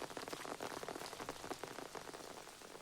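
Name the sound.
rain falling, movie scene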